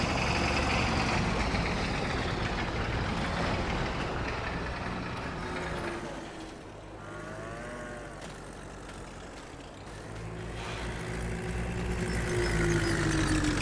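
A farm tractor's engine idles steadily during hay harvesting, a continuous low rumble that stays fairly loud throughout and dips slightly in the middle before rising again.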